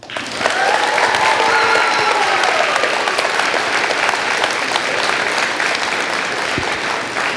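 An audience applauds a youth theatre cast at a Game of Tiaras show, steady dense clapping throughout with scattered cheers and whoops mixed in.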